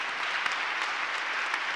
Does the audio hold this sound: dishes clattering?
no